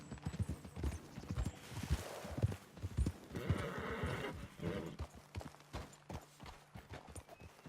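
Horses in Red Dead Redemption 2 clip-clop along at a walk with distinct hoof strikes, while one lets out a drawn-out whinny partway through, close by and moderately loud.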